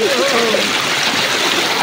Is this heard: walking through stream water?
yes